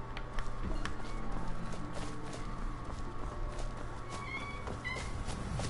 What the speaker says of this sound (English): I think my cat is quite vocal right now.